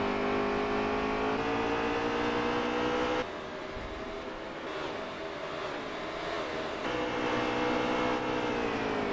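Stock car engines in the racing game NASCAR Heat 3 at Watkins Glen, a loud continuous droning roar whose pitch climbs and drops as the cars accelerate and shift, with no talking.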